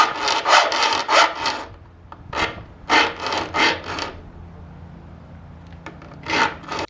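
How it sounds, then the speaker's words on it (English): A coarse file sharpens the chain of a Greenworks Optimus 28-inch battery chainsaw, giving repeated rasping strokes in short bursts with brief pauses between them, close and fairly loud. "I use a coarse file with determination."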